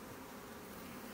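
Steady, close buzzing hum of honeybees inside an opened nucleus hive, a dense continuous drone with no voices.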